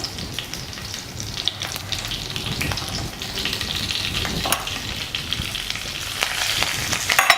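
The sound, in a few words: dried red chillies frying in oil for sambar tempering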